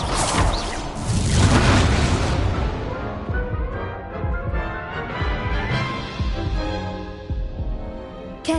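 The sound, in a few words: Incendio fire spell blast in a Harry Potter video game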